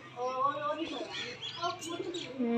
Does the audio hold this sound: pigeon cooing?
yes